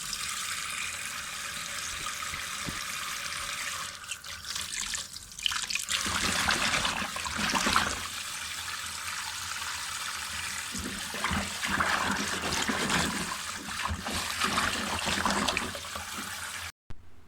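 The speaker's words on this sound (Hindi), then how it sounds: "अब इसमें खुला सा पानी डाल के इसको धो लें।" Water splashes and runs in a sink as taro roots are rubbed and rinsed by hand, a steady wet sloshing with occasional louder swishes, close by.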